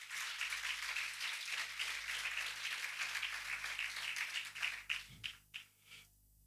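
A church congregation applauds during an evening sermon, sustained quiet clapping that thins out into a few scattered final claps.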